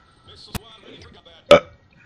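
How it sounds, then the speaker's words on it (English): A man burps loudly once, a short wet belch after a brief sharper throat sound, with murmured talk around it during a gaming commentary. "I got a burp again"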